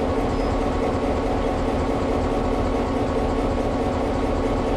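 Freight train cars being shuffled by a locomotive on a siding at a team track, a steady loud low diesel engine rumble running unbroken throughout, no voices.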